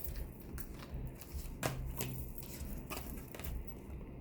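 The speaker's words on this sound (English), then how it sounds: "These cards are hard to shuffle, so I just do my own manual shuffle." Tarot cards shuffled by hand, giving a steady run of soft papery riffles and slaps close to the mic with a sharper flick partway through, no talking.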